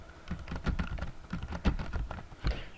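Quiet, rapid typing on a computer keyboard during an MS Office lesson, a soft patter of closely spaced keystrokes with no talk.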